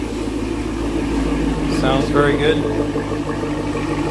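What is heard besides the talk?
Chevrolet Camaro SS 1LE engine exhaust idling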